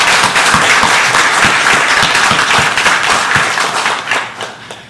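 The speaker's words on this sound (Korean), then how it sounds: "박수로 영광 올려드리시겠습니다" A church congregation claps together in sustained, steady applause at an ordination service for elders, deacons and deaconesses, loud and close before tapering off near the end.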